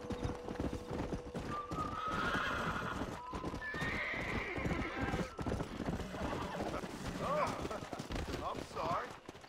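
Horse hooves clip-clop with a loud neigh and whinny in the Red Dead Redemption video game, a steady trotting rhythm with shouts and scattered gunfire-like bursts mixed in.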